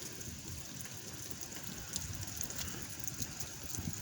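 Steady freezing rain during a North Carolina ice storm, a constant close wash of fine drops and icy patter hitting surfaces, even in level throughout with no voices.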